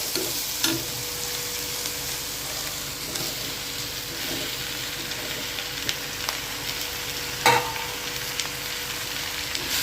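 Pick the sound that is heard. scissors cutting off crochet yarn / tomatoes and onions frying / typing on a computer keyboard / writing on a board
tomatoes and onions frying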